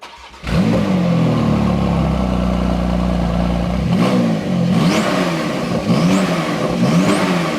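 A 3.8 litre twin turbo flat six fires on a cold start, cranking into a loud, sustained high idle roar that settles and then rises and falls with several sharp revs, close and without talk.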